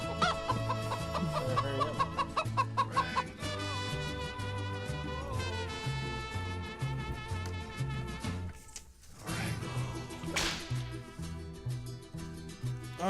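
Chicken clucking sound effect, rhythmic clucks set against musical tones and rhythmic beats, loud and close with no talk.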